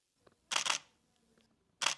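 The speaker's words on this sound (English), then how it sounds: "That, my friends, is the sound of the shutter in the Nikon D850" Nikon D850 DSLR shutter fires close and crisp: a faint tick, then a quick double-clack burst, a pause, and one more sharp release, with no talking.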